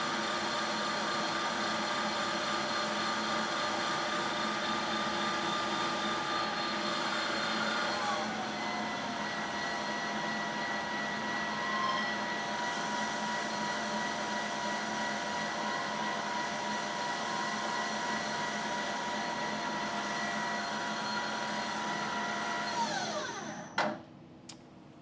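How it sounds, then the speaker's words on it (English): Precision Matthews PM 1440 HVT-2 metal lathe running and making a chamfer cut, a steady motor whine and hum with a slight shift partway through, then winding down near the end; no talk. "I'm going to slow it down for that chamfer cut."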